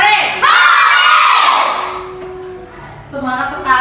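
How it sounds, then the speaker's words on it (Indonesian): Schoolchildren in a fifth-grade classroom shout hooray together in a loud, sustained burst of crowd voices, which fades briefly before another rise of cheering at the end. "Kalau kau sudah siap, teriak hore."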